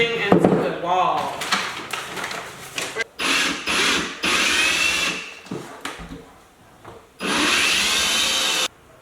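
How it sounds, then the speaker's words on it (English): Power drill driving screws to fasten a vanity mirror mount into a wall, several loud bursts of whirring separated by pauses, with handling clatter and a voice talking in between. "I'm going to take the drill and I'm going to be screwing this thing into the wall"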